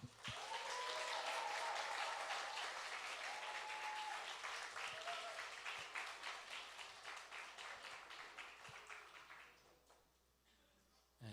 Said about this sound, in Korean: 그 자녀들에 대한 감사와 격려의 박수를